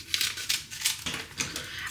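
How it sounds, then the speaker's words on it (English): Scissors cutting open a packet of dried spice in a kitchen: a rapid series of sharp, crisp snips and plastic crackles, close and fairly quiet, without speech. "Scissors are the easiest to get into these."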